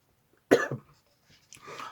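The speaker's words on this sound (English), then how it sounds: "My throat's getting a bit dry, so I'm going to cough for a moment." A single sharp cough up close, followed a moment later by a softer throat-clearing rasp in an otherwise quiet room.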